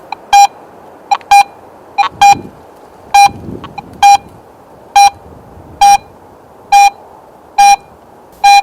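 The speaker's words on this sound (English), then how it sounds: "Now compare the same target in Pro Mode. It sounds louder at shallow depth" Garrett AT Pro metal detector in Pro Mode sounding a target signal: a regular series of about a dozen loud, sharp electronic beeps, evenly spaced, with faint handling noise between them and no talk.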